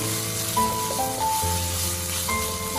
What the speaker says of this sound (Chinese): 炒到肥肉里面的油脂煸炒出来了